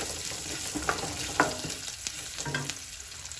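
Vegetables with red and green chillies stirred in a hot pan, giving a low steady sizzle with a few soft scraping strokes, fairly quiet and close.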